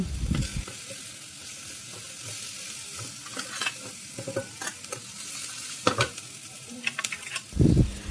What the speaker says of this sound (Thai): จากนั้นก็ใส่กระเทียมเจียวที่เจียวไว้ ผัดคลุกเคล้าให้เข้ากัน